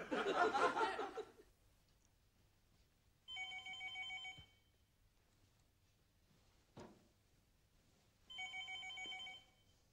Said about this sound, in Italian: puoi rispondere al telefono, per favore?